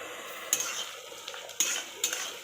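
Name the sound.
stirring potatoes with spice powders in a pan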